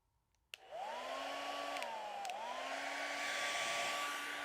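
A hair dryer switches on with a click and blows a steady, loud whir of air up close, its motor pitch dipping briefly twice before holding even, with no talking.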